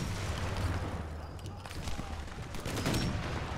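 Rapid bursts of video game gunfire, dense and loud, crackling in overlapping volleys with booming impacts throughout, mixed with game sounds.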